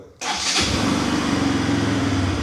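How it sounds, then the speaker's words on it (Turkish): A close Pulsar RS 200 motorcycle engine cranks briefly, catches, and settles into a steady, rumbling idle. "Şimdi çalıştıracağım motoru size. Motorun sesini de duyalım"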